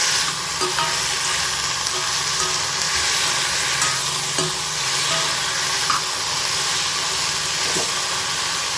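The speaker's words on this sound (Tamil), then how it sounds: "இப்போ இது நல்லா வதங்கிட்டு பாருங்கள் நல்லா வெந்துக்கிட்டு இருக்குது உருளைக்கிழங்கு ரொம்ப சூப்பராக வெந்துக்கிட்டு இருக்குது" Potatoes and beans frying in a pan produce a loud, continuous hissing sizzle with faint scraping from stirring, steady throughout and free of speech.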